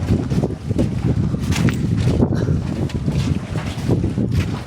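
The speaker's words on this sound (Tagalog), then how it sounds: "Grabing lakas ng hangin." Strong wind buffets the microphone in heavy, continuous gusts, roaring and rumbling throughout.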